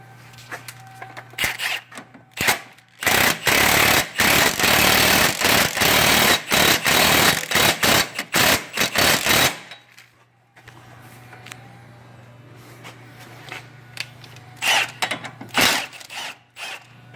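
Impact gun hammering a lug nut to pull a replacement wheel stud into a car hub, several loud rattling bursts with short pauses, followed by quieter clicks and handling noises.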